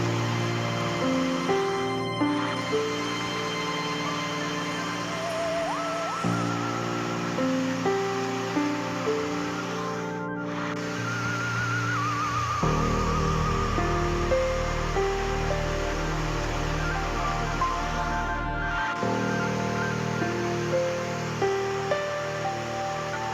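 A waterfall near Ranchi drops from 43.4 metres, a loud continuous rush of falling water with no voices and a steady roar throughout.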